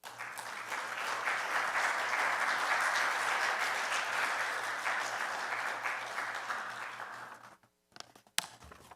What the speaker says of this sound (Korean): 나오실 때 박수로 격려해 주십시오.